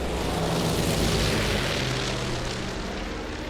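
A bomber aircraft roaring overhead in the video game Fallout New Vegas, a loud, dense, steady rumble filling the whole clip without a break.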